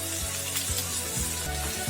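Ginger, garlic and green chili frying in oil for restaurant-style chilli chicken, giving a steady, close sizzle that runs throughout with a few soft stirring bumps and no voices.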